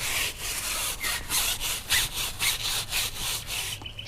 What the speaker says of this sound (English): I will scrub it, so I'll grab my tyre brush out